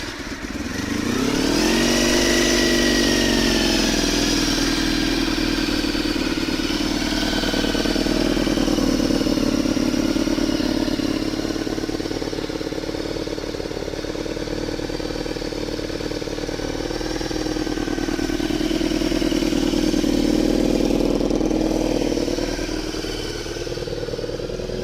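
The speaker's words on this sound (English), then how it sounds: "Let's see if it starts first go like it normally does." A cold Honda VFR400 NC30 motorcycle engine fires up and settles into a loud, steady, close idle that swells gently in pitch and stays running for the whole stretch.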